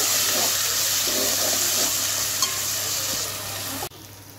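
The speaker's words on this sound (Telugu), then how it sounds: "ఇది పచ్చివాసన పోయే వరకు ఫ్రై చేసుకుంటానండి" Ginger garlic paste fries in a pan with a steady, loud sizzle, a sharp clink partway through; the sizzle drops suddenly near the end as the pan goes quiet.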